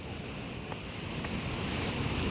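Athirappilly Waterfalls in Kerala gives a steady, even roar of rushing water, heard faintly as from a distance, with no voices over it.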